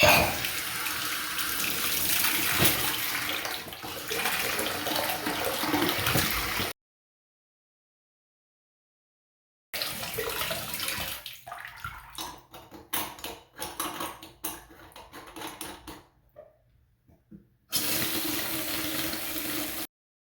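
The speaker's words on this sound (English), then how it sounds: "I'm going to pull the pull rod, and I'm going to open the faucet." A Glacier Bay single-handle bathroom faucet runs steadily into a sink, cuts off for a few seconds, then splashes and gurgles unevenly before flowing again at the end.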